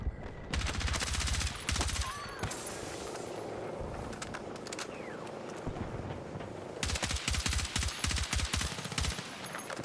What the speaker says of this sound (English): you're firing with an unsuppressed gun right next to me